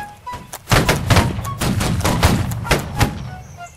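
A line of muskets fires in the Holdfast video game, a ragged volley of many loud overlapping reports over about three seconds, with distant shots echoing through the line battle.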